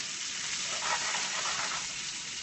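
Bell peppers in three colors with basil cubes sizzle steadily in a pan over medium-high heat, a continuous frying hiss with no talking.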